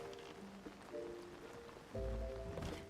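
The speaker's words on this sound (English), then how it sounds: "I love the sound effect of the rain on the glider." Rain pattering steadily on the fabric glider in Zelda: Tears of the Kingdom, a soft continuous patter with occasional tonal game sounds layered over it.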